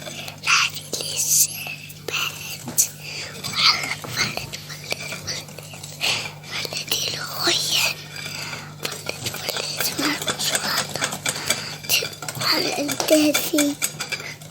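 Chocolate cake batter with cocoa is stirred in a bowl, soft scraping and light clinks of a spoon against the dish running throughout, close and fairly quiet, with a faint hum underneath and occasional soft whispery voice.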